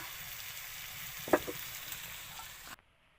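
Radish and prawns sizzle in a pan with a steady, moderate frying hiss and a brief sharp clink midway before the sound cuts off abruptly.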